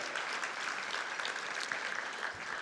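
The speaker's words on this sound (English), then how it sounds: "I think we should applaud the honorees" At the CAIR-SFBA 25th anniversary gala, a banquet audience applauds the honorees with steady, moderately loud clapping from many hands that carries on evenly for several seconds.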